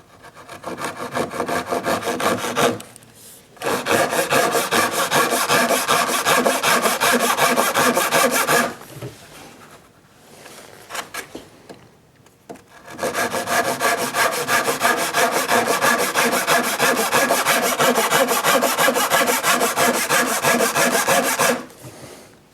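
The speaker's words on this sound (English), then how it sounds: "we'll cut this with the Dozoki" A Dozuki Japanese hand saw cutting wood balusters clamped in a vise, fast steady back-and-forth rasping strokes, close and loud, in two long runs with a short pause between them.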